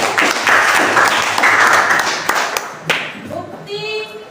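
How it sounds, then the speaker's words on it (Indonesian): Students in a classroom give a classmate a burst of applause, a dense spread of hand claps lasting about three seconds before trailing off into scattered claps and faint murmuring voices. "Berikan aplaus untuk Wasi."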